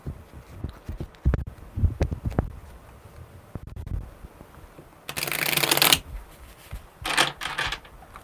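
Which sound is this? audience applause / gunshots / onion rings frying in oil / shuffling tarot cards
shuffling tarot cards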